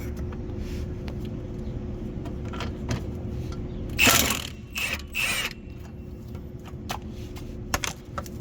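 Ratchet working on the rear sway bar nut of a second-generation Lexus IS250/350 during strut removal: a couple of short, sharp bursts of ratcheting clicks midway, over a steady low hum with scattered light clicks.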